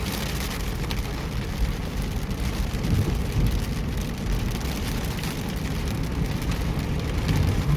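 Heavy rain pours steadily at the Al-Faya descent near Zarqa during a summer storm, a dense continuous roar of drops drumming on surfaces with no voices, holding loud and even throughout.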